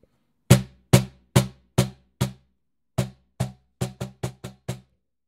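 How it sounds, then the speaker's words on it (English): Cajon played in the conga tone, struck with the flat of four fingers across the front and top: a dozen resonant thumps in an uneven groove that quickens toward the end, close and dry, with no voices. "So that's the conga tone on the drum,"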